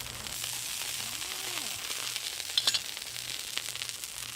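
Corn tortillas dipped in birria broth sizzle steadily on a hot flat top, a continuous close hiss with a few small crackles and pops partway through.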